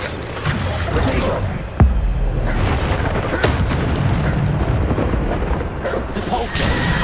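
Bombarda spell explosions in Hogwarts Legacy boom repeatedly amid dense, continuous spell effects and whooshes, with one sharp blast standing out near the start.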